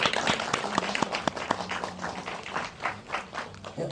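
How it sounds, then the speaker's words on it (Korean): Scattered hand clapping from a small audience closing a film festival Q&A session: individual claps stand out sharply, irregular and thinning out, with faint voices mixed in. "우리 훈훈하게 박수 치면서 마무리하고요."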